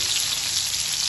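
Dal frying in hot ghee gives a dense, steady sizzle, close and loud, with no break over a short stretch.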